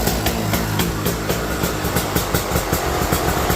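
A Beta dirt bike engine, with its automatic oiling removed, idles steadily at close range, a continuous low rumble with a quick regular pulse and no voices.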